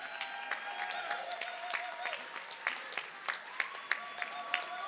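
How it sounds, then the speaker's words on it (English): Scattered applause from a crowd at the 2022 CUNY SLU commencement ceremony, with individual claps rising above a murmur of voices and light cheering in the background. "You can stand and get applause."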